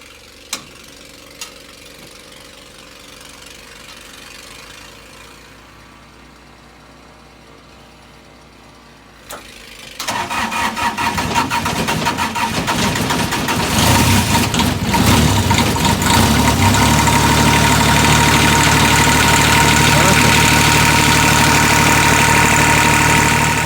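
A Farmall diesel tractor engine cranks and catches loudly in heavy snow, then settles into a steady, rumbling idle close by after a few quiet seconds.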